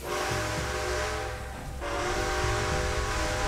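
Steam train whistle in the video game Red Dead Redemption 2, a loud sustained tonal blast with a short dip midway, then sounding again over the rumbling of the locomotive.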